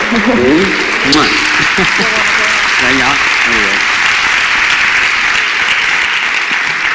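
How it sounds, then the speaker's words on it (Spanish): Applause from a symposium audience on apitherapy fills the room steadily, with someone speaking over it briefly at the start. "Pues un aplauso para ella"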